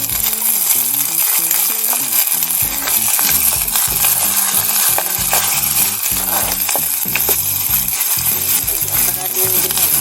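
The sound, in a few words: rampe and curry leaves sizzling while tempered in oil for kollu curry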